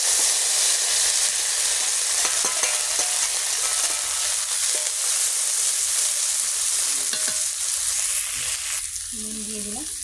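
Shrimp and onions frying in hot oil with whole spices in a pan, a loud continuous sizzle and crackle close by, with occasional stirring clinks and faint voices in the background.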